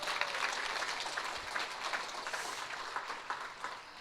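An audience claps at a business success academy event in New Jersey. The applause is faint and continuous, a soft crackle of many hands heard from a distance, with no voices over it.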